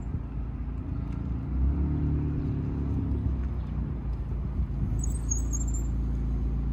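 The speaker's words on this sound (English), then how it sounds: "Good squeaky brakes" A new supercar rumbles low and close as it rolls, and near the end its brakes let out a brief, thin, high squeal before it settles back to the engine's rumble.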